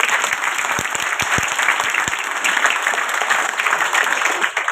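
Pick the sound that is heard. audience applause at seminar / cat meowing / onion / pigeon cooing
audience applause at seminar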